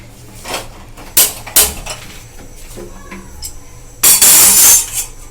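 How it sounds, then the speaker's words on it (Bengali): A karahi wok is set down on a kitchen stove while paneer masala is being prepared, giving a few sharp metallic clanks and knocks, with a loud clattering scrape near the end and no talking. "কড়া বসিয়ে দিয়েছি আমি কিন্তু এটা সাদা তেলে ফ্রাই করব"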